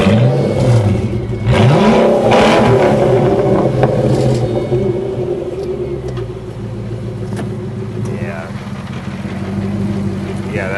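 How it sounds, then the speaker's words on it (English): Ford GT engine fitted with a racing exhaust revs loud and close, a strong throaty surge early on that settles into a steady rumbling idle, with voices talking over it. "Now this has a racing exhaust, so it's going to have a little more sound than stock."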